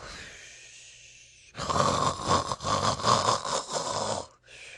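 A narrator's voice imitates a badger's snoring in a read-aloud story: a quiet breath, then a loud, rasping snore of rhythmic, throaty pulses ending in an abrupt snort.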